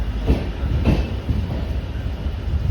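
A train pulls in to platform one at the end of its Yesvantpur to Mangaluru run, a steady low rumble of rolling wagons with faint rail clatter, heard close and continuous with no talk.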